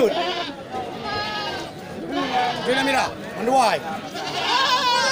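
Several goats, breeding does and fattening stock, bleat in wavering cries at a livestock market over a busy background of crowd chatter, close and fairly loud.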